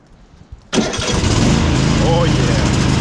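A riding lawn mower engine with the choke on cranks briefly and then catches, roaring loudly and close into a steady, rumbling run after a short quiet lead-in.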